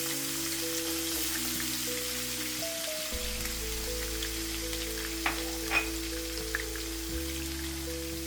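Dry red chili and chopped garlic sizzle in a hot pan while frying fish, a steady crackling hiss with a few sharper pops, close and moderate in level.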